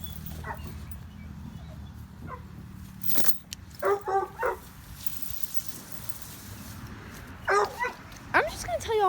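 Walker Coon hounds chained outdoors let out several short, close barks and yips in bursts, with a thin whimper near the end.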